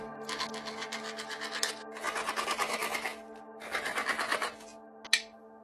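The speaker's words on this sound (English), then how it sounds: "Now I gotta drill some holes." A small drill whirs into split leg bone in three buzzing bursts separated by short pauses, close and fairly loud, ending with a sharp click.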